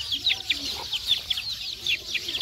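Chickens cluck repeatedly in quick, irregular bursts, fairly close and steady throughout, with faint voices in the background near a feeding spot.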